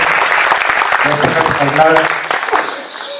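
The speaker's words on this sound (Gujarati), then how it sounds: "એક વખત જોરદાર તાળીઓથી સાહેબનું આપણે સ્વાગત કરીએ." Audience applause welcoming a visiting Lt. Col guest at a school event, a sustained burst of clapping from many hands, moderately loud, with a voice speaking over it.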